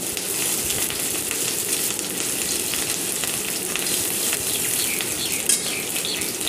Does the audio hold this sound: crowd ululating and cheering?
no